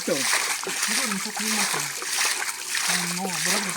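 Natural spring water flows and splashes in a forest near a temple, a continuous close rushing wash that runs steadily beneath people talking.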